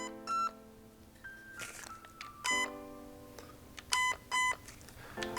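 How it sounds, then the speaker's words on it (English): An airsoft AEG's electronic trigger unit emits short electronic beeps while its selector is being programmed. Separate groups of clear, close tones follow each other with brief gaps, alongside a few soft mechanical clicks. "So each trigger pull is going to give you a different series of beeps."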